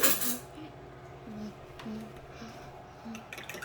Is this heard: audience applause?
no